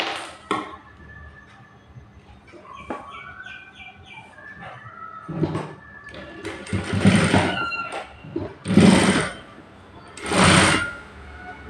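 A sewing machine stitches fabric in several short loud bursts, with birds chirping in the background between runs.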